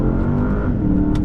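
A 2021 Porsche Panamera accelerates under throttle in second gear, its engine giving a loud, steady, close drone that rises slightly in pitch across a short burst.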